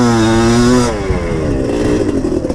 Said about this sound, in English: give it a fistful of revs at the bottom